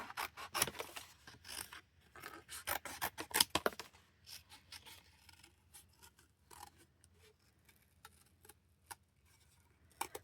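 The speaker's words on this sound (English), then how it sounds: "Oh, I'm gonna cut this out too. We're gonna cut out the Lay's and the 10 bags." Scissors snip through paper and packaging cutouts, including chip bags, for a junk journal collage, with a quick run of loud crisp cuts followed by softer, sparser snips and rustling.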